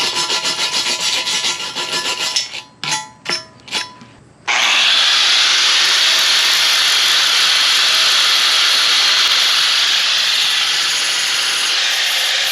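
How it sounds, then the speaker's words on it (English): Welded corners of 2x3 steel tube rock sliders for an XJ are ground down. A few short, choppy bursts come first, then a long, loud, unbroken grinding rasp runs close up to the end. "I'm going to grind this down just so it's flush all the way around before I paint it"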